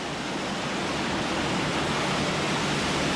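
Bottom ash from a waste-fired power station grate drops into a water quench bath, producing a continuous, dense rushing and splashing roar that stays loud and even throughout.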